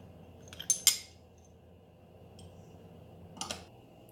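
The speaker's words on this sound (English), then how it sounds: "Now I will mix the dressing." A metal utensil clinks a few times against a bowl while mixing a chicken dressing of paprika, salt and garlic powder: a quick cluster of sharp taps, then quiet, then two more light clicks.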